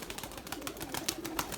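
Erzurum white breeding pigeons coo softly in a loft, several low, rounded calls repeating at close range over a steady background hiss.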